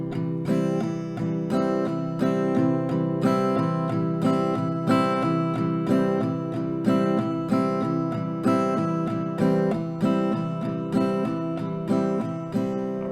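An acoustic guitar strums chords of a song in a steady, repeating rhythm, each stroke crisp and close, with no voice.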